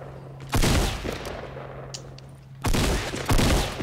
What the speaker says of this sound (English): Shooting him? You shooting him?